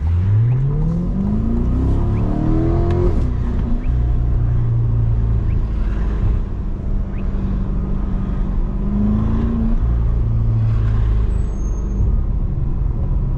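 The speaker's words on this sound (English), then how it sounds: "Nothing really beats a first gear pull in this car though." A Chevrolet C8 Corvette in Sport+ mode pulls hard in first gear, its engine note climbing loudly from inside the cabin, then shifting and rising again under a continuous heavy roar.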